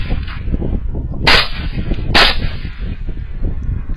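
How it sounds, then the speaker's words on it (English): Rifle shots are fired at hogs in the outdoors at night, with two sharp cracks about a second apart over a steady low rumble of wind and background noise. "Four shots and I am not happy"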